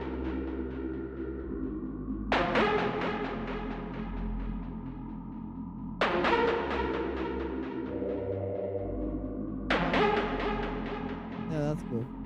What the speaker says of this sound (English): Let me work on the bass line a little.